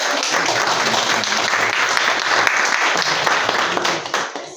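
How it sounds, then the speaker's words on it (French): An audience at a private Protestant school event applauds steadily and densely for several seconds, the clapping thinning out toward the end. "Marie Binda, que je vous demande d'applaudir, s'il vous plaît."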